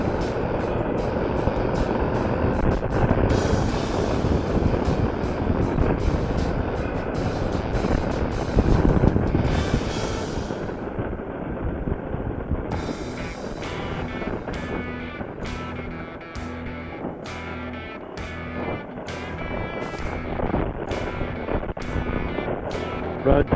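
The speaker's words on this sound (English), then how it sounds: "You'll be getting a totally different exhaust note through my helmet." Motorcycle with a 2-into-2 exhaust and a different cam, heard from the rider's helmet on a rough road, a steady loud engine drone mixed with heavy wind rush and occasional clicks.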